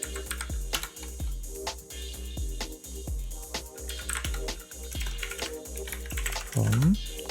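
Quick, steady key clicks from a computer keyboard as React form code is typed, heard over a faint low rhythmic background beat, close and continuous.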